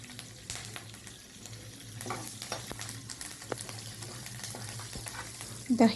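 Curd chilies (dahi mirchi) fry in hot oil while tempering for raw tamarind rice, a steady close sizzle with occasional stirring scrapes and a brief louder burst near the end, no voice.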